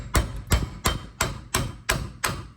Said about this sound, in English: give it a few taps with a hammer